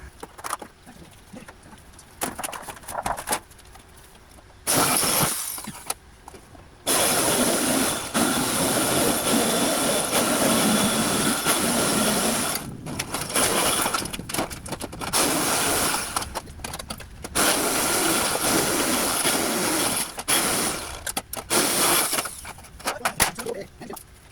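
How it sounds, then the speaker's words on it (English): Mechanical shears cut a metal carport roof sheet in long, harsh, loud rasping bursts close by, separated by short quiet pauses. "we're going to use our mechanical shears to cut it to the right size"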